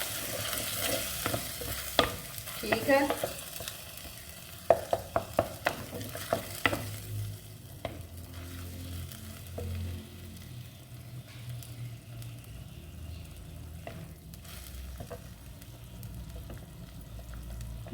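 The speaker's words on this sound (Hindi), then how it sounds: "बस 2 मिनट के लिए आपने इसको फ्राई कर लेना" Blended tomato paste fries with minced mutton keema and potatoes in a pan, giving a steady soft sizzle with spoon stirring and scraping clicks, dhaba style, close and continuous with a brief word spoken.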